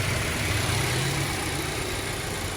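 Car boxer engine running after start-up during a basic service, a steady, smooth broadband drone with a low rumble, loud and continuous with no voices.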